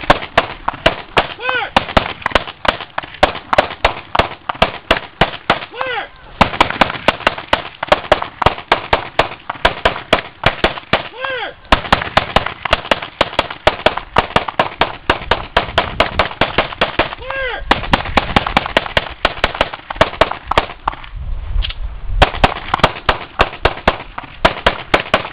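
Loud, close gunfire on a combat shooting course: many sharp shots fired in fast strings, with brief gaps between bursts, and voices heard faintly around them.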